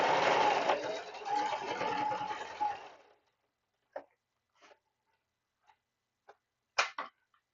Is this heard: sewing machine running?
yes